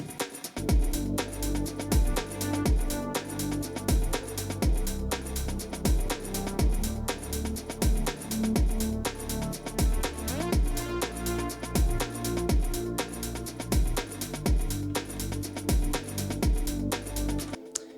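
Melodic electronic music plays steadily, with a pulsing beat under layered synth tones that hold a full, even loudness throughout.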